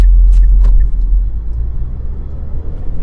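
A Dacia car engine pulls hard at full throttle from a standstill toward 100 km/h, a loud, deep low rumble that holds steady throughout the three seconds with no talk over it.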